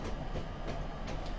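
A train in Train Simulator 2017 rolls along the rails with a steady low rumble and faint periodic clicks of wheels over track joints, heard alone without any talking.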